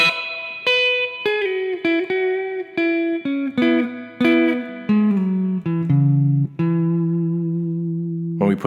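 A slow electric guitar line plays a solo in single sustained notes one after another, each note ringing clearly with a bright, slightly processed tone and no voices.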